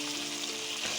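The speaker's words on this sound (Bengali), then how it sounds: "মশলাটা ভালো করে ভেজে নিলাম" Spice paste with mustard paste frying in a pan, for a fish recipe with mango. A steady, moderately faint sizzle holds throughout, with a slight stirring scrape near the end and no talk.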